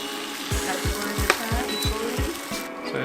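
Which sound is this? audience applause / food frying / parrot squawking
food frying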